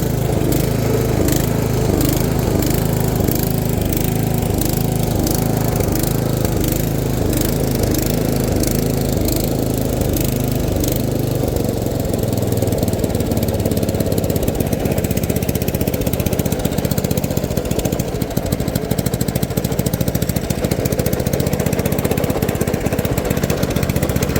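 A Dixon ZTR427 zero-turn mower runs loud and steady, its engine drone layered with the rattly whine of a noisy drivetrain, holding nearly constant throughout with no speech.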